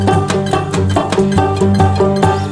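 Banjo picks a two-measure G blues lick as a song kickoff, with bright rolling plucked notes over a steady bass pattern, loud, close and continuous, no voices.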